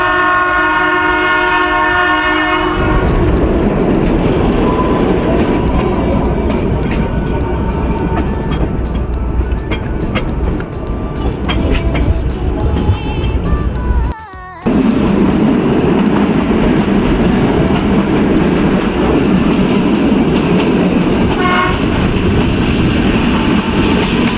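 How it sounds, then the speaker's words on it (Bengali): A small heritage toy train on the Kalka–Shimla line rumbles steadily along the rails with a sustained horn blast at the start, clattering on loudly throughout with a brief dropout midway. "সেখান থেকে আমরা হেরিটেজ টয় ট্রেন কালকা সিমলা চড়ে পৌঁছে যাই সিমলাতে"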